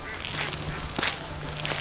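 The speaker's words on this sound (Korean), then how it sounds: "거위새들도 많이 보이고 오리도 많이 보이고" Ducks and geese call at Suncheon Bay, several short honking quacks rising at intervals over a steady outdoor background, moderately close and alone without talk.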